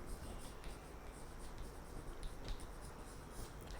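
A pen scratches steadily on paper while an accounting journal entry is written by hand, faint and close, with soft repeated strokes and no talking.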